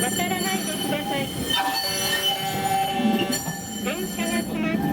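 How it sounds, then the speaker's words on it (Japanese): A streetcar pulls in at Toyama Station, its wheels and motor droning steadily with brief squeals and chime-like tones, while a repeated recorded announcement plays over the rail noise. "電車が来ます。"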